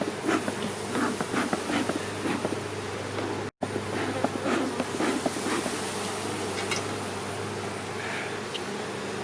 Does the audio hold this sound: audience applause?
no